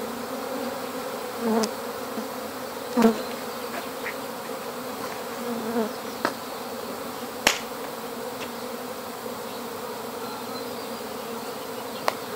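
A volunteer swarm of honey bees buzzes steadily near a beeswax ramp they climb, a continuous close drone with a few brief sharp clicks and taps rising above it.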